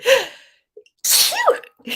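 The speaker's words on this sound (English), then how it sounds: "oh, I feel a sneeze coming on." Two sharp sneezes close to the mic, with a short quiet pause and a sharp intake of breath between them.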